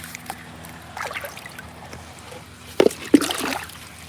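Water poured into a swimming pool skimmer, heard as faint, scattered trickles and a couple of brief, sharper splashes near the end.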